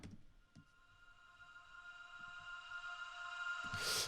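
An atmospheric pad sample from a Vengeance sample pack, a faint sustained tonal wash that slowly swells, with a brief airy burst at the end; quiet and alone, no voices.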